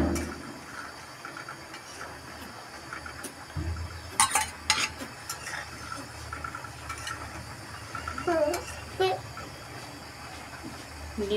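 Beaten eggs are stirred into boiling soup in a pot, giving soft scraping and light clinks of a utensil over a low bubbling hiss, faint and intermittent, with a few sharper knocks partway through.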